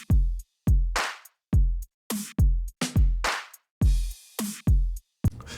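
Electronic drum loop from an old track, run through a drum group with FabFilter Saturn distortion, loud and punchy: booming kicks and crunchy snares hit in a stop-start pattern with short gaps of silence.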